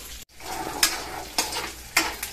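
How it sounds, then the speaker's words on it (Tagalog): Meat browns in a pan for pancit canton guisado, a steady close sizzle with a spatula stirring and scraping in three distinct strokes. "Tayo po mga kabayabas ay magigisa atin muna kung pinapa brown itong yung ating karne."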